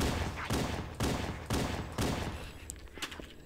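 Pistol fire in Halo: Combat Evolved, one of the guns being a plasma pistol: loud, close shots land at a steady pace about every half second, then give way to quieter scattered pops and zaps, with no talking.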